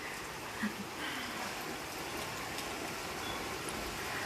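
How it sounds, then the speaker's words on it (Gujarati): Steady rain falling outside during an unseasonal pre-monsoon shower, a continuous soft broadband hiss with faint scattered patters and a brief knock, moderately distant and even throughout, no voices. "બહુ જ વરસાદ છે અહીંયા."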